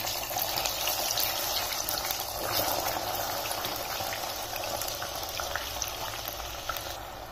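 Hot milk poured into roasted semolina for halwa makes a loud, bubbling hiss and sizzle that holds steady and close throughout, with no voice over it.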